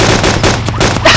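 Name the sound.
gunfire in the video game DayZ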